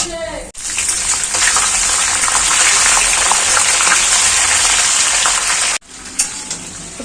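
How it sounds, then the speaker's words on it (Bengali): Panch phoron and dry red chilies sizzle loudly in hot oil for a mango and jaggery pickle, a dense, steady frying hiss close by, briefly cut off twice before picking up again. "তেলে পাঁচফোড়ন আর শুকনো লঙ্কা।"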